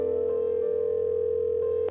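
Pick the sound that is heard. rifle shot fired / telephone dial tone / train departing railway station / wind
telephone dial tone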